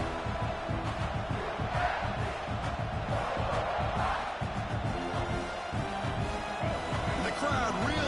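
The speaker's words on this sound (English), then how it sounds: "The crowd really making some noise now, trying to help out this defense to get this stop near the goal line." A football stadium crowd roars loudly and continuously as the defense tries to make a stop near the goal line, a dense wall of cheering and shouting throughout.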